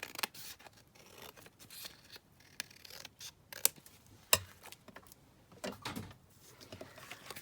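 Scissors trim folded paper for a mason jar pocket in a junk journal, with irregular close snips and crisp cuts spread across the quiet stretch and no talking.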